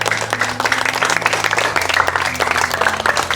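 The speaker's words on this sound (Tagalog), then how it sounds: "isa pong palakpak para kay Mr." An audience bursts into sustained applause for Mr. J, many hands clapping densely and evenly without a break, with a faint murmur beneath.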